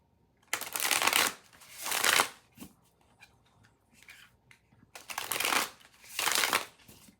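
Tarot cards are shuffled in two loud riffling passes, each a pair of quick bursts, with soft handling and shuffling noises in the quiet stretch between them.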